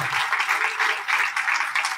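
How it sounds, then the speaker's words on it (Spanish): Audience applause at a book presentation, continuous dense clapping at moderate loudness that fills the room steadily without speech. "me encantaría que le den un fuerte aplauso"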